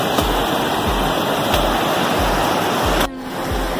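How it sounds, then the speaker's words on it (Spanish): River water rushes at the confluence of the Yatoni and Cajonos rivers in a Zapotec jungle area, a loud, steady close roar with soft regular thuds underneath that briefly dips near the end. "Llegamos al cruce de los ríos de Yatoni con el río Cajonos."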